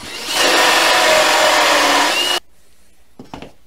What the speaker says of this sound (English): I'm just checking that the drill bit has protruded through the other side so that we can continue the cut from that direction.